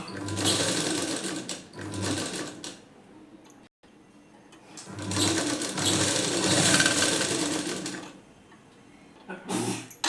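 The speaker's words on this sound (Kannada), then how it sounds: "ಈ ರೀತಿ ಫೋಲ್ಡ್ ಮಾಡಿಕೊಂಡು ಇದನ್ನು ಸ್ಟಿಚ್ ಮಾಡ್ಕೊಳ್ಳಿ." A sewing machine stitches a folded blouse front patti in rapid mechanical bursts, running in a few short runs and one longer stretch separated by quiet pauses, close and clear with no talking.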